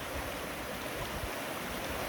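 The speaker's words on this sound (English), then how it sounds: "take care of this river, but also use it while it's flowing like this." A creek near Melbourne flows steadily, a dense close wash of rushing water with low gurgles and no voices.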